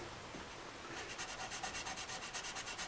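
400 grit sandpaper rubbed over guitar frets, a soft, close scratchy rasp that starts as a steady hiss and then settles into quick, even back-and-forth strokes, faint and with no talking.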